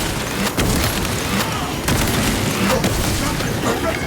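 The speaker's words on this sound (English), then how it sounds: "Frag grenade deployed!" A frag grenade blast in Warhammer 40k Space Marine 2 lands amid a loud, dense battle din, with sharp bangs and crackling gunfire layered over continuous roaring combat noise throughout.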